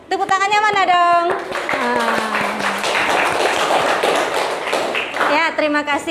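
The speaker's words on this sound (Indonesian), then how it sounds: "Tepuk tangannya mana dong?" Schoolchildren and an audience at an elementary school scout cheer performance break into a loud, sustained burst of hand clapping and applause lasting several seconds, with children's voices speaking before and after.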